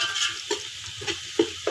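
A close, steady sizzle of rice frying in a pan toward light golden for degi chicken pulao, with spoon scrapes knocking through every half second or so.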